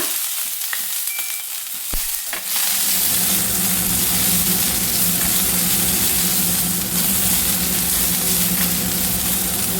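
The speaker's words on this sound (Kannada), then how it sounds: "ಎಣ್ಣೆ ಹಾಕಿ ಫ್ರೈ ಮಾಡ್ಕೊಳ್ಳೋಣ." Oil frying for tomato chutney starts with a sudden burst about two seconds in, then holds a loud, steady crackling sizzle to the end. A few faint clicks come before it.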